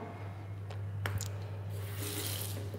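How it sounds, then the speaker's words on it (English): Tap water runs steadily in an airport washroom in Liberia, a continuous hiss with a few brief knocks and a low mains-like hum underneath, growing a little brighter toward the end. "We got running water in your airport."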